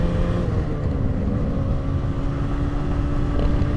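A 1980 Moto Guzzi 250 TS two-stroke motorcycle runs steadily up close, its engine drone holding an even, continuous level under rushing wind noise across the whole stretch.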